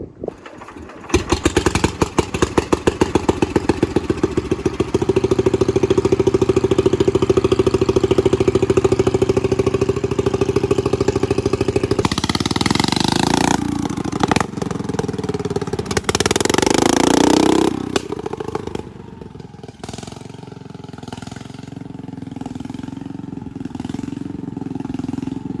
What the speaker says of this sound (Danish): vores farlige motorsav, det er sådan en her lille M12 Milwaukee Frank Cutter.